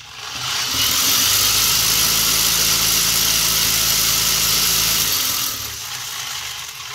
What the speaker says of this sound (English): And then there's the flywheel itself.